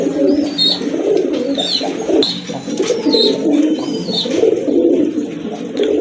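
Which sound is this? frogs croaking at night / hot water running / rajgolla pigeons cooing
rajgolla pigeons cooing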